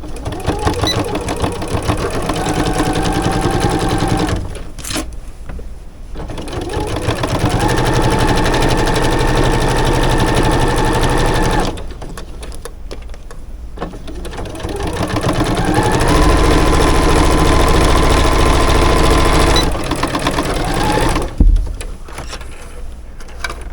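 A sewing machine stitches a baby rag quilt block along a 1-inch seam, running in three long steady bursts with short pauses between them, loud and close with no talking.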